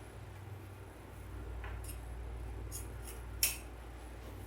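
Faint snips of scissors cutting Halloween deco mesh wreath material, a few quiet crisp cuts ending in one sharper snip, set against a low steady background hum with no talking.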